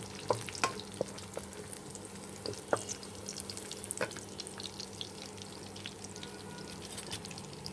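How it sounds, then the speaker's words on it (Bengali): Green chilies fry in a pan for khuder vaat, broken rice cooked Bengali style, with a soft steady sizzle. Sharp scraping clicks from stirring cut through at intervals, fairly quiet and close. "ভালো করে ভেজে নেব, লাল লাল হওয়া পর্যন্ত"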